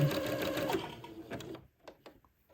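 Sewing machine zigzag stitching lace onto the bottom edge of fabric, a steady close whirring run that stops partway through, followed by faint handling noises.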